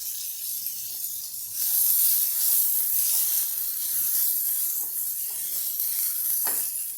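Curry leaves, green chillies and onion sizzle in hot oil, a soft hiss that jumps louder after a quiet start and then spits and crackles steadily, with a faint clatter near the end.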